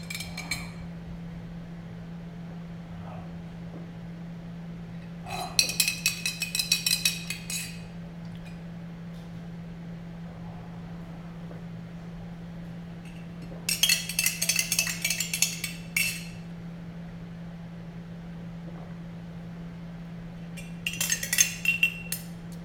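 A spoon clinks against a glass in three short bursts as a drink with extra virgin olive oil and seeds is stirred, with quiet pauses and a steady low fan hum throughout.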